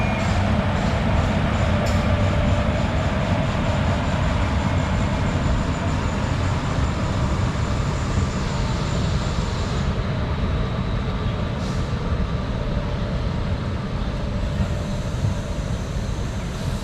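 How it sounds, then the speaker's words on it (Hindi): The Tea Garden Express, hauled by locomotive 22340, rolls past from Karaikal toward Ernakulam, a loud, continuous rumble and rattle of wheels and carriages that holds steady throughout with no voices. "this train is coming from Karaikal to Ernakulam."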